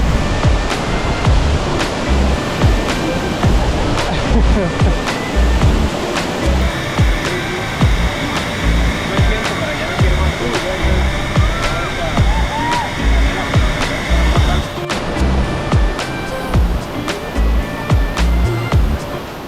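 Constant roaring rush of a waterfall, loud and close, with no pauses across the whole stretch.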